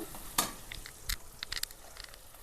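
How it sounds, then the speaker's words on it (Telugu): Onions and tomatoes cooking in a kadai for a country chicken curry, a soft, close sizzle under scraping stirring strokes and a few sharp clinks of a spoon against the pan, with no voices. "ఉల్లిపాయ, టమాటా అన్నీ కళాయిలో వేసుకోవాలి."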